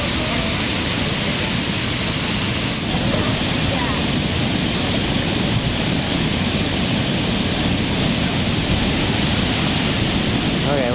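A waterfall roars up close as a constant dense wash of falling water. The hiss stays loud and unbroken the whole time and covers any other sound.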